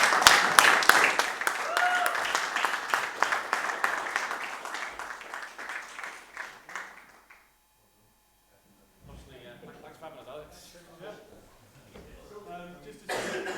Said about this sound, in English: So please join me in a round of applause for these guys